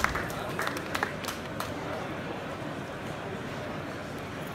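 Audience clapping at a London building-design talk, a dense, steady wash of applause with a few sharper claps early on, continuing alone for several seconds.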